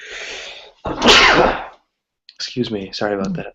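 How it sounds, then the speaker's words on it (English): A single loud, explosive sneeze bursts out after a brief breathy intake, followed by a short silence and then a person speaking an apology close to the mic. "it's going to be a sneeze attack day today"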